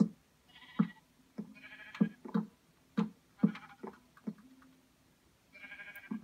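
Sheep in the Minecraft video game bleat several times at irregular intervals, soft and fairly quiet, with short gaps of near silence between the calls. No one speaks.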